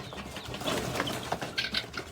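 Guinea fowl, including lavender pearl and pied birds, call in short raspy bursts among other bird sounds and rustling, fairly close with no talking.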